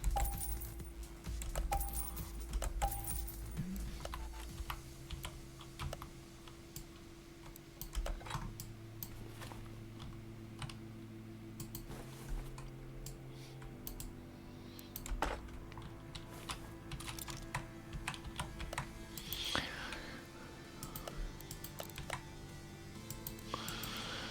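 Keys clatter on a computer keyboard in quick irregular bursts of clicks, close and fairly quiet, over a low steady game music hum, with no speech.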